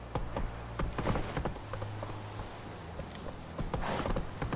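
Roach the horse walks steadily on hard ground in The Witcher 3, with clear repeated hoof clip-clops close by and brief pauses between steps.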